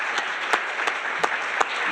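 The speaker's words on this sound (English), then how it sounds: "Give them a round of applause for the gray panel." Conference audience applauding a smart energy and utilities panel at a summit, fairly steady clapping with a few sharper individual claps standing out near the mic, brief and moderately loud.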